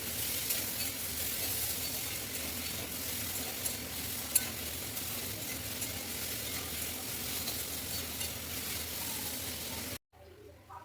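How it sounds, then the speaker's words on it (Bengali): Food being stirred as it fries in hot oil, with chilli added, gives a steady, close, continuous sizzle with faint scraping for about ten seconds before cutting off abruptly. "তেলটা দিয়ে আমি ভালো করে নেড়ে নিই।"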